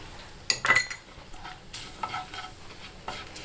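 Ground spice powders, coriander, chili, garam masala and turmeric, roasting and sizzling in a pan for potato masala curry, with a few sharp spoon scrapes and clinks against the metal as they are stirred.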